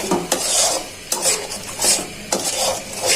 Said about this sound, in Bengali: নেড়ে চেড়ে ভেজে নিই